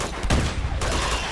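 Bursts of dense gunfire fill a short moment in Uncharted 2: Among Thieves, loud and close, with rapid overlapping shots.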